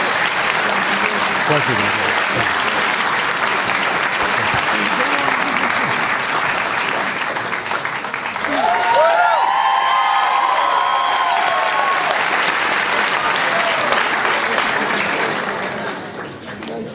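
A graduation audience applauds and cheers for a new Hall of Fame member, a dense, steady roar of clapping with whoops rising partway through, mixed with a brief spoken word and fading slightly at the end.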